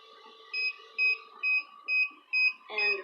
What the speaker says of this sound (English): That beep is the temperature getting low from me popping it open and close.